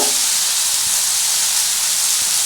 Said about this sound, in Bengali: একটু হলুদ দিলাম।